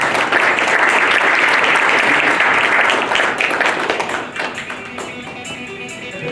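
An audience at a basement systems company symposium applauds, dense and loud for about four seconds, then thins into scattered claps that trail off.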